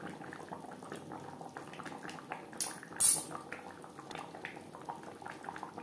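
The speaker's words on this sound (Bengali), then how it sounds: "গ্রেভির সাথে গরম মশলা ও ধনেপাতা কুচি বেশ ভালো করে মিক্সড করে দেব।" A utensil scrapes and clinks in a pot as garam masala and chopped coriander are stirred into a fish and potato curry gravy, over a soft bubbling simmer, with one louder clatter midway.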